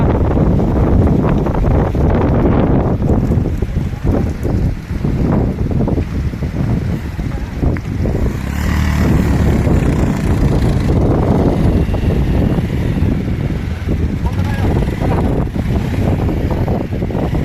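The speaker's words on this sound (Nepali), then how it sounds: "आज हावाहुरीले बर्बाद पारिरहेछ" A strong windstorm in Pakhutte, Nepal, strong enough to knock down power poles, roars steadily into the microphone throughout, a dense, buffeting rumble with gusty swells and no voices.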